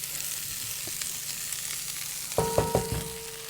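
Vegetables and corn fry in a pot with a soft steady sizzle, then a few clanking stirs of a utensil against the pot near the end.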